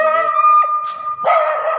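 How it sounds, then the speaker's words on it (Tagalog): Dogs howl in long, wavering tones, with a few short barks and yips breaking in, close by and loud. "Ito yung mga alagang aso ni Boss Sami Okindo."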